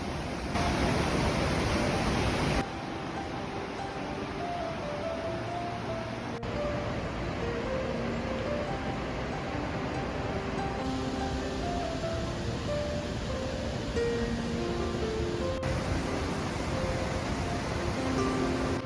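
A powerful waterfall roars continuously, a dense, steady wash of falling water that stays loud and unbroken from start to finish, with faint tonal traces drifting underneath and no voices.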